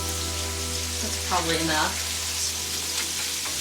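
Arugula sizzles steadily as it cooks down in a hot pan, a close, even crackle that carries through the whole moment while someone says a few words partway through.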